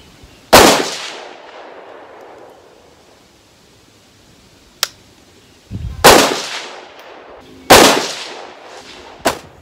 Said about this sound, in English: Let's start getting it zeroed at 100 yards, trying a variety of ammo.